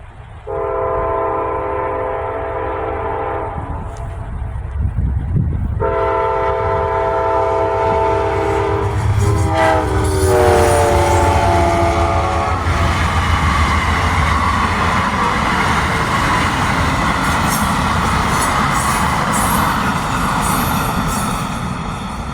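Passenger train led by two P40 series locomotives sounding loud multi-tone horn blasts, then rumbling past close by with a steady roar of wheels and rail noise that continues as the cars roll through.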